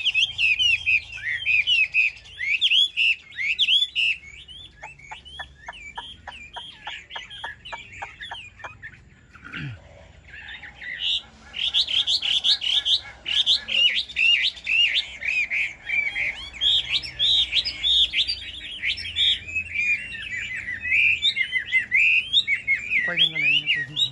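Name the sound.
hwamei (Chinese laughingthrush) singing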